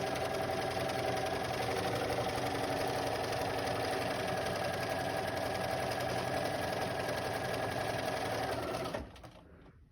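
A sewing machine runs continuously while quilting stitches, a steady close mechanical whir and rapid needle rhythm that stops abruptly just before the end.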